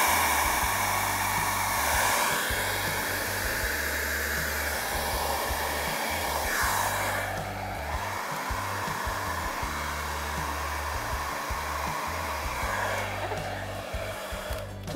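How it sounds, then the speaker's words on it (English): A hair dryer on its cool setting blows continuously with a steady whirring roar over resin art, its airflow pitch shifting slightly as it moves, loud and close for the whole stretch. "You're on a cool setting for the hair dryer?"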